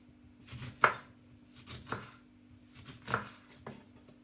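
A knife slicing through a lemon on a cutting board, a few separate soft thuds spaced about a second apart, close by and fairly quiet.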